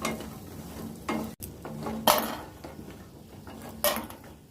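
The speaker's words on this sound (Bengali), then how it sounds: "প্রথমে আমি বড়িগুলোকে ভেজে নেব, ভালো করে ভেজে বড়িগুলোকে তুলে নেব।" Bori lentil dumplings frying in oil in a pan, a low sizzle broken by bursts of scraping and clattering as a utensil stirs them against the pan.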